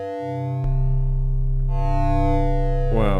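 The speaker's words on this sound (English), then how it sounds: "He's just going to be a pure sine wave arriving in the envelope." A pure sine wave note from a Nord Micro Modular synth, unfiltered, sustains as a steady low tone after a click at onset, with a brief chirpy burst near the end.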